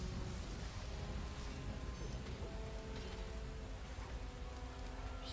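Rain falling in the video game Neverwinter Nights: an even, unbroken wash of patter and hiss that holds at a quiet level throughout.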